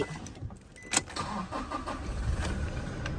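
A 2016 Toyota Revo 2.4E pickup truck engine cranks and catches, then runs with a steady low rumble and some revving, close by, with a faint jingle of keys near the start.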